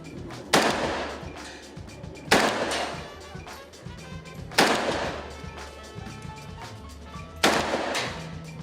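AK-47 rifle fired at a gun range, four loud separate single shots spaced about two seconds apart, each followed by a short decay.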